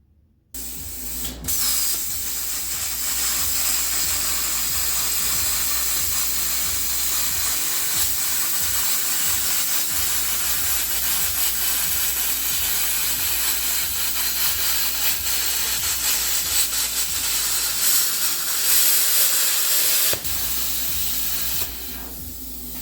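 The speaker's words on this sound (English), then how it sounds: "So got a cheap little plasma cutter." A Yeswelder Cut 65DS plasma cutter slicing through metal gives a steady, loud, harsh hiss that runs almost without a break for about twenty seconds, with no talking.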